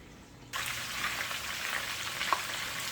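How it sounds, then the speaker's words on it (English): Rabbit meat sizzles and crisps in a hot pan, the frying hiss bursting in suddenly after a brief quiet start and holding steady with small pops, close and alone. "Just going to let her get crispy and take her out of the pan."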